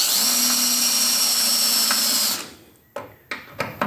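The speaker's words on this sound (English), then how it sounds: "Now we're just going to drill the top off." An 8mm drill bores the top off a broken steel bolt with a loud, steady whine that stops abruptly after about two seconds, followed by a few sharp clicks and taps.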